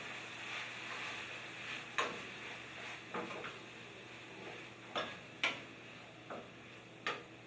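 A spoon stirring a pepper mixture in a pot, quiet scraping with several distinct sharp clinks against the pot at irregular intervals over a faint sizzle, no talking.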